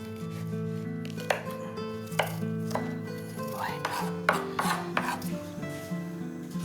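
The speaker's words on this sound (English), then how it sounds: "her helping hands are chopping potatoes," Potatoes, peppers, carrots and garlic are chopped for a stew, a knife striking a board in irregular taps and scrapes over a soft backing of music, with no talk.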